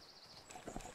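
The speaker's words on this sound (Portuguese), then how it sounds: "Vamos, cavalinho. Alto galope" Horse galloping in the video game Horse Tales: Emerald Valley Ranch, a soft run of hoofbeats that grows louder and more rhythmic toward the end, over a steady background ambience.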